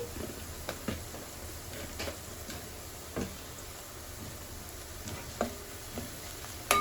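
Mutton curry with turmeric being stirred in a pan, a faint low sizzle under intermittent spoon scrapes and taps against the pan, quiet and close with no voices.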